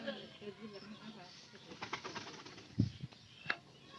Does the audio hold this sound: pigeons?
yes